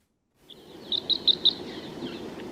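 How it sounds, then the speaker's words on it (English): An owl call taken from a sound-effects library: a quick series of four short, sharp, high-pitched notes rising out of silence, fairly faint over a soft background hiss. "Owl. That's like an owl sound."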